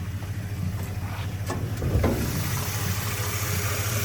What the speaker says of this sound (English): this engine runs and purrs like a kitten.